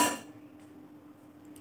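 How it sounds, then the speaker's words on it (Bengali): A metal stand is set inside a preheated 5-litre pressure cooker, giving one sharp clank that rings out briefly and then fades into quiet. "প্রেশার কুকারের মধ্যে আমি একটা স্ট্যান্ড বসিয়ে"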